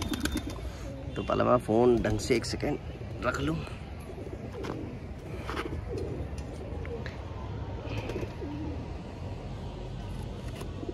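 A pigeon coos in soft repeated bursts near the start, with a voice talking and shuffling noises around it.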